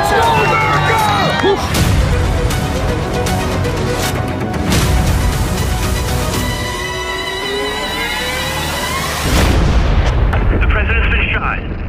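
Gunshots at an outdoor political rally, several loud cracking bursts spread across the clip amid a roaring crowd with screams and shouting voices close to the microphone.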